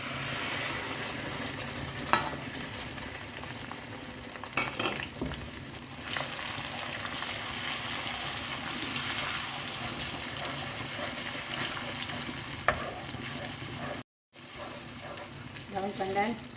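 Onion paste with ginger and garlic sautéing in a pan alongside cinnamon, cardamom and cloves, a steady close sizzle and crackle running throughout with occasional stirring clicks and a brief dropout near the end.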